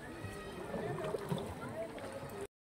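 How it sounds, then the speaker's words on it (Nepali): A rowboat on Begnas Lake near Pokhara, Nepal, its oars sloshing and gurgling through the water at close range while voices murmur in the background, ending in an abrupt cutoff. "डुङ्गा चलाउने।"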